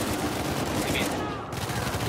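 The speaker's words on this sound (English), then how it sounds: "there's a lot of gunfire" Gunfire from the video game Uncharted 4 during an ambush, a dense, continuous burst of shots and explosions with a brief dip partway through, loud throughout, with faint voices underneath.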